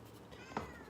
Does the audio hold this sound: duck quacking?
no